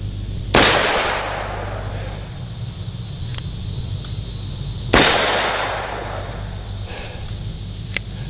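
Two sharp revolver gunshots ring out several seconds apart at an outdoor range shooting a swinging steel plate, each crack loud with a long decaying tail, and a few faint clicks come in between.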